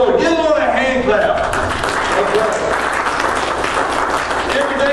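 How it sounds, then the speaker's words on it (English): A church congregation claps together while voices call out over the top, the applause loud and sustained for several seconds. "Give the Lord a hand clap."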